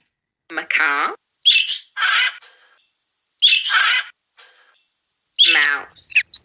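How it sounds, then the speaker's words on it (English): A macaw parrot gives harsh, raspy squawks and shrill calls in uneven bursts with short silent gaps between them, loud and up close with no other sound. "macaw,"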